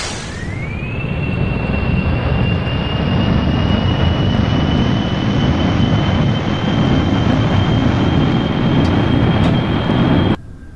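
Shuttle rocket engines roar at full throttle during a launch in a space flight video game, a loud, dense, continuous rumble with a rising then steady whine layered on top, cutting off abruptly near the end.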